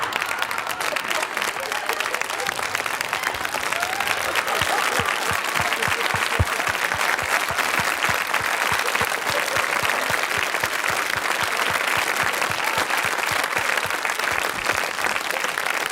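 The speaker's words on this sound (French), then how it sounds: "Je pense qu'on peut les applaudir encore" A theatre audience at a French variety show keeps up steady, loud applause for an improvised comedy sketch by Jackie Sardou and Sim, with rhythmic clapping running the whole time.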